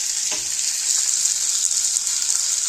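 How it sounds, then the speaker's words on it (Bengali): A stuffed vegetable snack fries in oil in a pan, giving a constant bright sizzle that stays close and even, with a faint clatter early on. "উল্টে এইটাও আমি ভালো করে মানে ভেজে নেব যাতে সবজিগুলো ভাজা হয়ে যায়"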